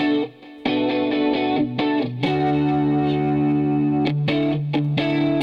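Music processed through the classic model of the iZotope Neutron 4 distortion module, a dense, saturated tone with sustained harmonic layers and brief gaps, played loud and steady throughout with no talking.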